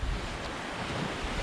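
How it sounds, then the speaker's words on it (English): Steep, rolling waves and strong wind roar in a rough tidal channel while sailing, a dense continuous wash of surf with heavy wind buffeting on the microphone and no voices. "You can see the waves are so steep and rolly, they're rolling over on themselves."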